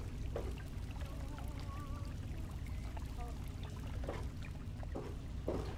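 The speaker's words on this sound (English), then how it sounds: "You can hear water." Flowing water in the video game Fallout 3, a steady continuous wash of running water that lasts the whole stretch, with faint scattered game sounds on top.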